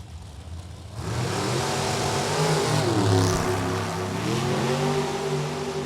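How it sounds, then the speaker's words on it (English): Rear-engine dragster racing at the Beech Bend Raceway drag strip during an NHRA Division 3 event: a loud, sustained engine roar that kicks in suddenly and holds steady with shifting pitch, heard at a distance without talk. "Janice Swan joins in the Race to Win Motorsports rear engine dragster."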